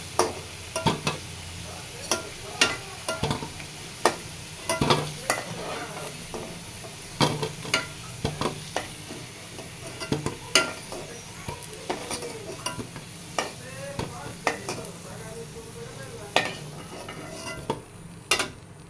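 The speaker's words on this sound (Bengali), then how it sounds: "এখন তেল গরম হলে এর ভিতরে আলুগুলো ভেজে নেব।" Potatoes fry in hot oil while being stirred, with steady sizzling under sharp scrapes and clinks of a utensil against the pan throughout, close and fairly loud, with no talking.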